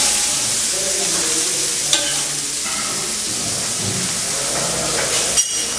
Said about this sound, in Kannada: ದಾವಣಗೆರೆ ಬೆಣ್ಣೆ ದೋಸೆ.